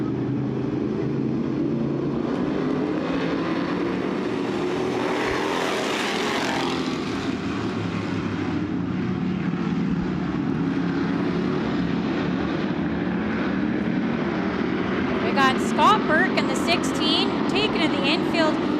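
Dirt track race cars, including Thunderstock cars, roar away at the green flag at Southern Ontario Motor Speedway, a loud, steady engine drone filling the whole stretch while a commentator talks over it.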